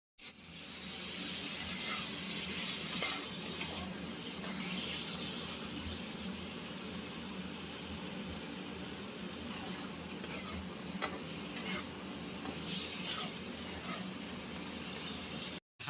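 Bombay duck fish sautéing with light spices in a pan, a steady close sizzle with occasional stirring scrapes running throughout and no voices.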